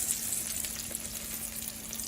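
Crab cakes fry in grease in a pan, a soft, even, continuous sizzle with faint crackle throughout.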